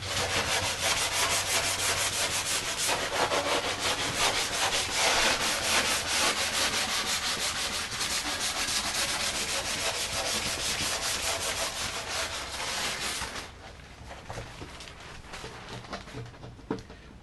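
Hand sanding along a surfboard edge with fine-grit sandpaper makes rapid, rhythmic scratchy rubbing strokes, loud and close, before easing into quieter, sparser rubs near the end.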